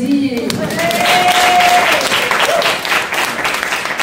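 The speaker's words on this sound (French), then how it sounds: "ça s'applaudit" An audience applauds loudly, with dense clapping rising and sustained for several seconds before thinning out, while a voice carries on speaking over the noise.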